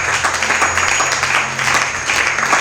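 A church congregation bursts into applause to acclaim the Lord: dense, loud clapping from many hands fills the room continuously, with faint voices mixed into the crowd.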